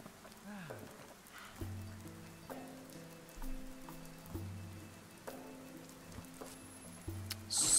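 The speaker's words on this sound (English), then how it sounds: "now that all the rain is coming down, it's not getting any better" Steady rain comes down in the video game Dead in Vinland, a soft hissing patter running beneath game music notes and someone talking throughout.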